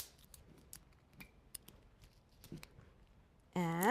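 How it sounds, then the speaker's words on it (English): A roughly six-inch strip of duct tape is torn down its center by hand. Faint ticks and handling clicks lead into a sudden loud, close tearing rip at the very end. "I'm going to rip this down the center."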